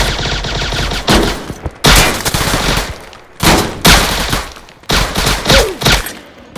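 Gunfire from the Chicago Remastered video game: several loud bursts of rapid shots, each a dense crackling volley followed by short gaps, close and dominant with no talking.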